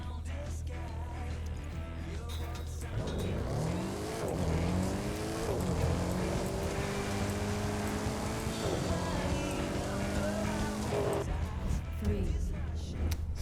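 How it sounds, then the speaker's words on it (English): Mercedes X-Class pickup trucks racing in The Crew 2, with a steady engine roar rising and falling through shifting revs, tires hissing, and a music-like bed running underneath throughout. "Now for this race, you'll be driving a Mercedes X-Class pickup truck, and so will the competition."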